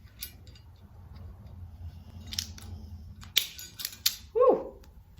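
Scissors cut through the wire of an old bridge arm lamp with a few sharp, close snips near the end, after quiet handling noises.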